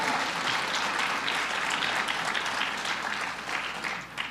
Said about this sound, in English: Let's give him a round of applause, President Rabinowitz.